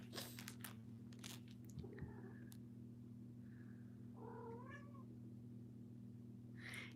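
Pet cat making a short, faint meow along with soft crunching and biting sounds, heard close over a steady low electrical hum.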